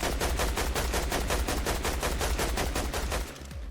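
Rapid automatic gunfire in Fortnite, a dense continuous burst of loud close shots that runs for about three seconds before cutting off.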